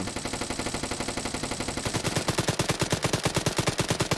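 A Czechoslovak vz. 58 assault rifle fires in fast automatic bursts: loud, close, rapid cracks in a steady rhythm that grows denser and more forceful partway through, with no talk.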